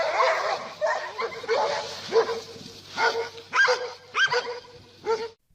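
Dogs barking and yipping at a polar bear mother guarding her cubs, a close run of sharp, uneven barks broken by whimpers, ending abruptly.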